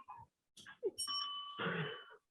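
Timekeeper's bell at a Toastmasters speech meeting in Karachi, a short bright ring sustained briefly and then fading, heard up close after some faint scattered room sounds.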